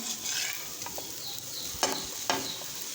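A raw potato snack cooks on a tawa with a thin splash of oil, making a quiet steady sizzle broken by a few brief scrapes and taps nearby.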